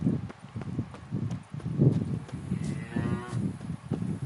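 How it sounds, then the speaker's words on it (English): A cow moos once in The Witcher 3, a moderately loud, drawn-out low call over hoof clops and footstep-like thuds from the game world. "Cow."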